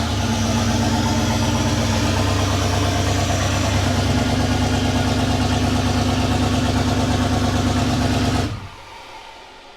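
A turbocharged Holden 304 V8 idles loud and close in a steady, even rumble soon after its first start in twelve years, then cuts out abruptly near the end, leaving only a faint background.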